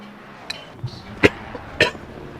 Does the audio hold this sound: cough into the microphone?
yes